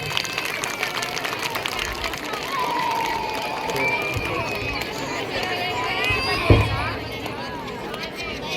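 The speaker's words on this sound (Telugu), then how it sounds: "చప్పట్లు కొట్టండి దయచేసి అందరూ." Audience at an outdoor rangoli competition prize announcement clapping amid a steady murmur of crowd noise, with one sharp thump near the end.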